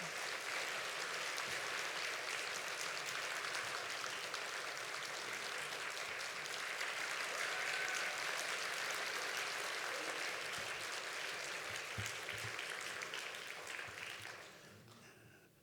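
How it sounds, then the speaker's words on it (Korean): Church congregation applauding in welcome at a retirement testimony service, a dense, steady wash of many hands clapping throughout, fading out at the very end. "뜨겁게 환영의 박수 해주시기 바랍니다."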